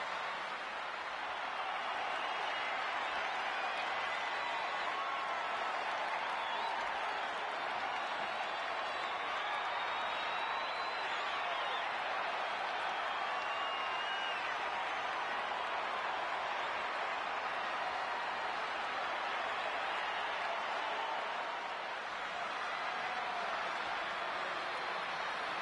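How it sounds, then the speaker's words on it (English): A large arena crowd in the WWE 2K24 wrestling video game keeps up a steady roar of cheering and applause, dense and unbroken throughout. "And just listen to that crowd."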